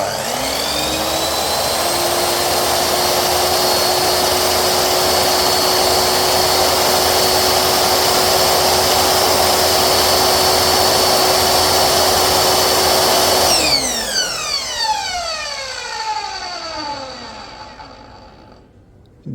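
A Dongcheng DJX09-255 miter saw spins up to full speed and runs with a loud, steady, high-pitched whine. Once switched off, its motor winds down with a falling pitch until it goes quiet.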